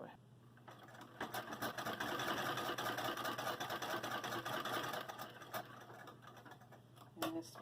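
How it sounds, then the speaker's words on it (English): An 1800s sewing machine runs steadily as it stitches quilt strips, a close mechanical whirring rattle that starts, holds for several seconds, then slows, with a few sharp clicks at the end. "this machine is from the 1800s, and I'm going to continue with my strips of strips"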